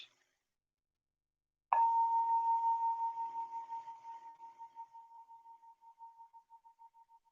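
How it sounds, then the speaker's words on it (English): A meditation bell is struck once, giving a bright, clear ring that hangs in the air and slowly fades toward silence over several seconds. It sounds alone, with no voices. "now gently follow the sound of this bell towards the silence."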